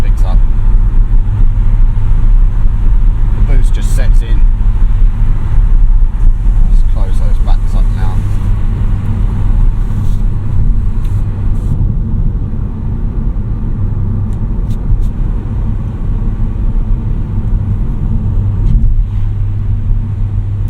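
A 2020 Cupra 290 with a DSG gearbox rumbles loudly and steadily while dropping down through the gears on a daytime drive, the deep drone heard from inside the cabin with a voice talking over it.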